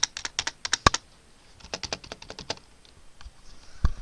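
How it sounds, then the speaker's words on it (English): Typing on a Logitech G213 Prodigy keyboard, a run of close, crisp keystrokes in quick bursts with short pauses and one sharper clack near the end, heard alone. "If you hear mechanical keys, it's because I switched over to the G213 Prodigy."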